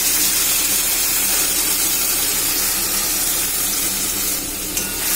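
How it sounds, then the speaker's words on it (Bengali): Ground tomato paste goes into onion and garlic already frying in a pan for a duck egg curry, setting off a loud, steady sizzle with stirring scrapes throughout and no voices. "এবার আমি একটা টমেটো বেটে রেখেছিলাম সেটা দিয়ে দিলাম।"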